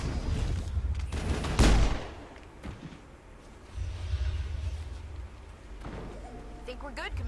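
Pistol fire in the Mass Effect video game: one loud, close burst of shots stands out, with quieter combat noise and voices around it.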